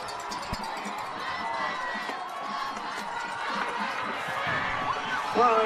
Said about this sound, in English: Listen to this crowd celebrate a huge victory, 3-0, 3 in a row for Shafter.